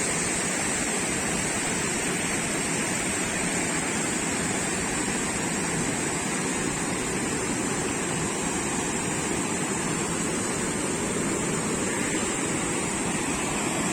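Rushing water pours steadily and loudly at an abandoned farm, a dense, unbroken roar of clear water with no pauses and no voices.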